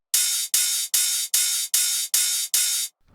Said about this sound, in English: Then this open hat is hitting on the upbeat